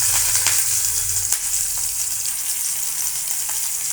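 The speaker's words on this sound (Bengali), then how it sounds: "এই দেখুন বন্ধুরা, এক এক করে সব পেঁয়াজগুলো ভেজে নেব।" Diced onions fry in hot oil in a wok with a loud, dense, continuous sizzle and a few sharp crackles near the start.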